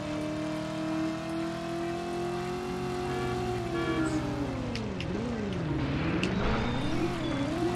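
Game car in Driver: You Are the Wheelman droning steadily with a rising and falling engine pitch, swerving through a slide that sets the tone wobbling, under a continuous backing music bed.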